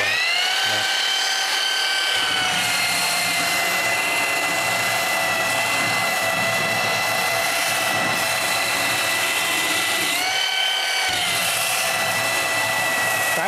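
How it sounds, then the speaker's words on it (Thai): A steady high-pitched whine from a PUMA cordless belt sander runs throughout with strong harmonic tones, briefly dipping twice, grinding against wood up close. "เดี๋ยวผมจะลองขัดตรงโซนนี้ให้ดูนะ"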